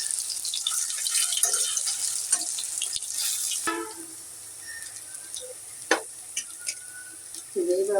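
Onion fritters (peyaji) frying in oil, giving a light, crackling sizzle with scattered pops and clinks of stirring, fairly faint and close, with occasional louder bursts and no talking.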